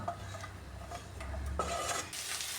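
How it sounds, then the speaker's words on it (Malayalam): Jackfruit seeds frying in coconut oil in a pan, a soft steady sizzle with light stirring scrapes and clinks, heard close and faint with no talk. "ഇനി നന്നായിട്ടൊന്ന് ഫ്രൈ ആക്കിയെടുക്കാം."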